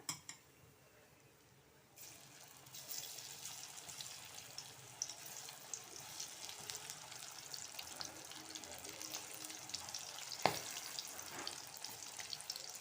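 Bitter gourd slices fry in hot oil with a soft, steady sizzle and faint crackles, quiet and close with one brief sharp clink near the end, no talking.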